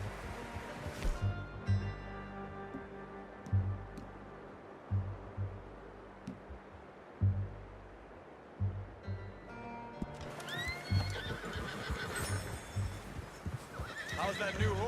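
A horse in Red Dead Redemption 2 whinnies and snorts while its hooves clip-clop in an uneven rhythm, then a louder whinny rises near the end over a low ambient hum.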